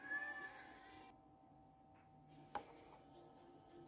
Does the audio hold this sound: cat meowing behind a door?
yes